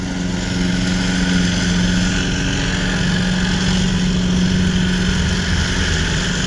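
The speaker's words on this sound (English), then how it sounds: "Oh, that's my lawnmower I gave the guy" A lawn mower engine running steadily nearby as grass is cut, a loud, constant droning hum with no pauses.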